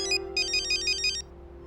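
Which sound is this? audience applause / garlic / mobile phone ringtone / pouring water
mobile phone ringtone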